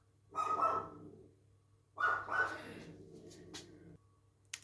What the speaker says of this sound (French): Excusez-moi, j'ai ma petite chienne.